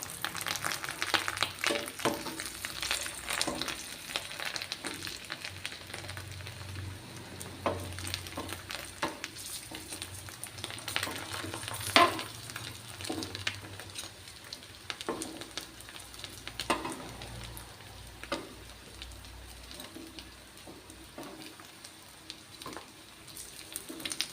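Dried sole fish frying in a pan with a steady low sizzle, broken by scraping clicks and clatter as the pieces are turned over and stirred, with brief louder clanks midway.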